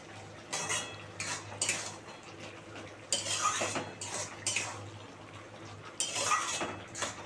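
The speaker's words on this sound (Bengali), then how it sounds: "দেখো একটু নেড়ে চেড়ে দিই।" A spatula stirs snake gourd curry with peanuts in a pan, making close, intermittent scrapes and clinks against the metal in several separate bursts with quiet pauses between.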